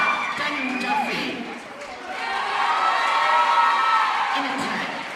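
A crowd cheers, whoops and applauds as a South Australian over-30s mixed team is welcomed onto court at a grand final, a steady loud roar of voices and clapping with a commentator talking over it.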